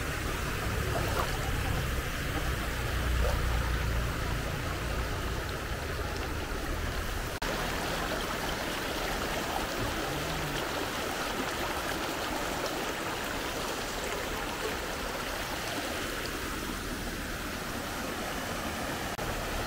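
A clear, shallow river runs over small rocks near Sleman, Yogyakarta, a steady close rush of flowing water without pause for about twenty seconds, no voices.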